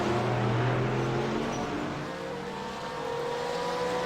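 GT3 race cars at the Nürburgring in a racing video game, engines droning and shifting pitch steadily as several cars pass close by, with a continuous loud roar throughout.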